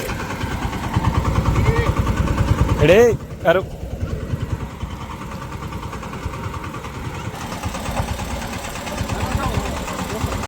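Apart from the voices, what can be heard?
tractor engine running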